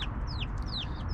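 Chickens at a small backyard coop cluck and chirp in short bright calls over a steady low outdoor rumble, several calls across the moment.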